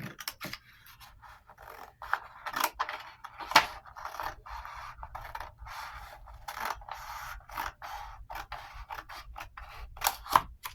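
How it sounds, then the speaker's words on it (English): Scissors trimming paper or board edges for a large photo book: quiet, intermittent snips and scraping cuts in an irregular rhythm, close up in a calm room. "I'm just going to trim this off to about 1 inch."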